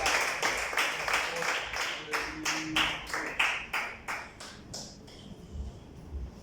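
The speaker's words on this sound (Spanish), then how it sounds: "Vamos a darle un fuerte aplauso a nuestro Dios." A church congregation at a Bible study claps in a burst of applause that comes as a rapid train of hand claps, loud at first and thinning out toward the end, with a murmur of voices underneath.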